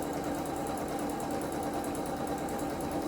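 A sewing machine topstitches a double-folded 1 cm hem on the top edge of a fabric school satchel, running as a steady, continuous mechanical whir close by with no talking.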